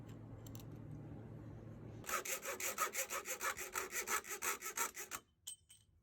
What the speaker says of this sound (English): I'm making a mortise for a plug.